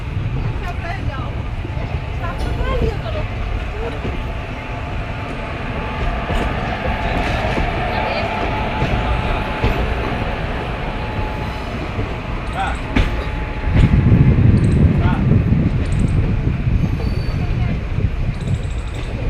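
The Vindhyachal Express, train 11274, pulls out of Prayagraj Chheoki station with a steady rumble and rattling carriages, and a heavier low roar swells near the end as the cars roll past close by.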